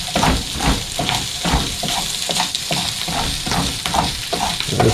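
Corned beef hash frying in a not-so-nonstick pan aboard a narrowboat, a dense crackling sizzle with rhythmic scraping strokes as it is stirred, close and continuous without speech.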